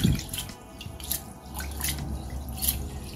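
Rice being washed in water to remove starch: close sloshing, swirling and dripping as grains are stirred in a bowl, with a low running-water rush and brief splashy peaks.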